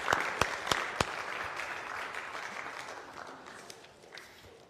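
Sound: church congregation applauding children

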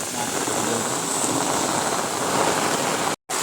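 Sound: rain falling

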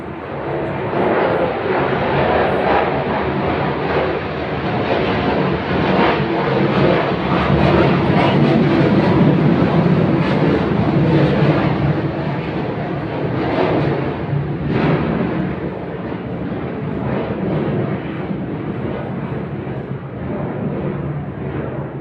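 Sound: airplane flying overhead

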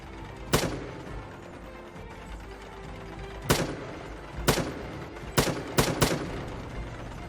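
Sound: bomb explosions in video game Northend Tower Defense

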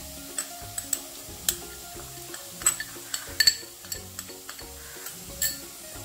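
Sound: frying and stirring Kashmiri chilli powder in pan

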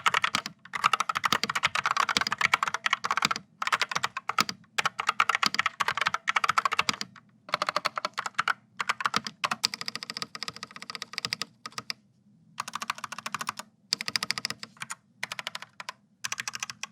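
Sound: typing test on an RGB computer keyboard

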